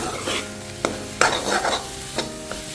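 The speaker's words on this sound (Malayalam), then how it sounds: "നമ്മൾ ശ്രദ്ധിച്ച് നല്ല രീതിയിൽ ഇളക്കി ഇളക്കിക്കൊണ്ടിരിക്കാം റവ വേവുന്ന വരെ" Semolina being stirred in a hot pan for Kerala-style upma, with repeated scraping strokes of a spoon against the pan over a soft, continuous sizzle, close and clear with no talking.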